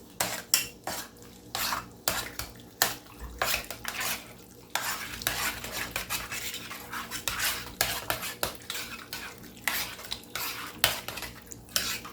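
Tater rounds and Velveeta cheese being stirred in a pot on a stovetop, a spoon repeatedly scraping and clanking against the metal in irregular bursts over a faint sizzle, with no talking.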